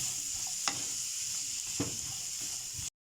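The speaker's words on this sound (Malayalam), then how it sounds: "ഉള്ളിയെ നന്നായിട്ടൊന്ന് ഇതിൽ നിന്ന് തന്നെ വാടി വരണം അതുവരെ ഒന്ന് ഇളക്കി കൊടുക്കാം" Onions sautéing in a pan hiss in a continuous close sizzle, broken by a couple of brief spatula scrapes before the sound cuts off abruptly.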